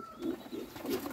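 Soft coos from young yellow Czech show pigeons in a loft repeat in a short rhythmic series, close and fairly quiet.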